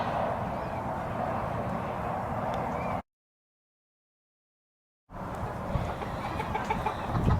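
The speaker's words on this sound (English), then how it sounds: "Boy, do the chickens like the dry dirt." Chickens cluck and murmur softly close by, with scratchy ground noise, broken by a brief stretch of silence partway through.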